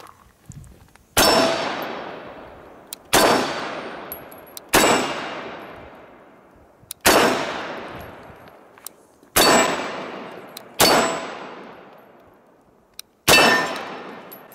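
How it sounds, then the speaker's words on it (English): A Colt 1911 Series 80 pistol in .45 ACP fires seven single shots, each a sharp loud crack followed by a ringing clang from a steel target. The shots come at irregular intervals of one to two seconds, and each rings out and decays before the next. "here is my first time shooting this Colt 1911"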